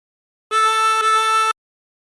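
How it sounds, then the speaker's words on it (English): Two sustained harmonica draw notes on hole 3, the second bent down to A, played back to back with a slight break between them, clear and close, with nothing else around them. "Breathe in through 3 twice and bend the note to produce A."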